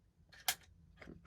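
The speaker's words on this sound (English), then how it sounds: "I'm going to fish that buffer weight into the bolt carrier group" A buffer weight slides into an AR rifle's bolt carrier group with a faint metallic click and a couple of soft taps in a quiet space.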